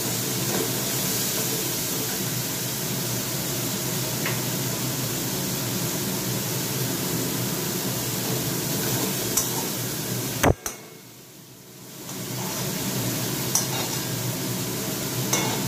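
Spiced curry is sautéed in a kadai, giving a continuous broad hiss of frying with faint stirring scrapes, briefly dipping after a sharp knock before the sizzle returns.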